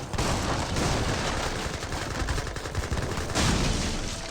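Gatling guns firing in battle in the Age of Empires 3 video game, a dense, sustained barrage of rapid gunfire and blasts layered into a loud continuous roar with no pauses.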